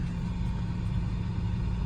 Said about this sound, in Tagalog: mahaba na yung traffic dyan